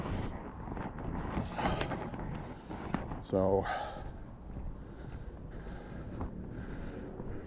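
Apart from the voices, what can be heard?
strong wind gusts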